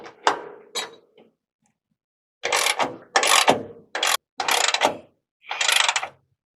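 A ratchet wrench tightens the front shock bolts on a P32 Workhorse motorhome chassis, heard as several close, sharp bursts of rapid clicking separated by short pauses, with no talking.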